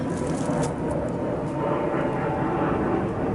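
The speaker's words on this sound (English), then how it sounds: "Oh, and that is Finnair plane." A Finnair passenger airplane passing overhead, a steady broad roar of jet engines that holds loud and continuous throughout, with no voices over it.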